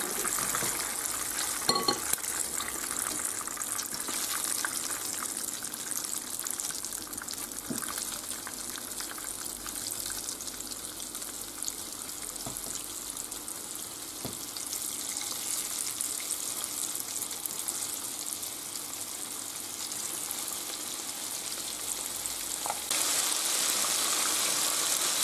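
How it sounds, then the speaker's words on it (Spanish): Chicken pieces fry in oil in a pan for pollo en pepitoria, a steady close sizzle and crackle with occasional light stirring clicks, continuous throughout with no talking. "Y seguimos friendo."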